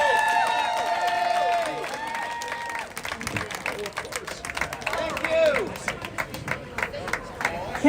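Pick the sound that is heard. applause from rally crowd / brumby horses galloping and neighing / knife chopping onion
applause from rally crowd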